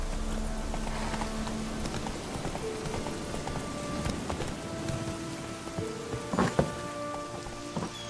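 Roach the horse's hooves clip-clopping through a rain-soaked scene in The Witcher 3, steady hoofbeats under a constant hiss of rainfall, with a couple of louder knocks near the end.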